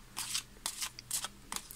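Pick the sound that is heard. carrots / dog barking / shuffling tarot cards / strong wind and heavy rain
shuffling tarot cards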